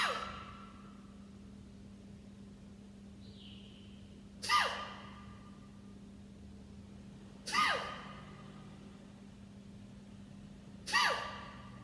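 Slow pranayama breathing in a quiet room: three deliberate breath sounds roughly three seconds apart, each a soft rising rush over a low steady hum, with no talk.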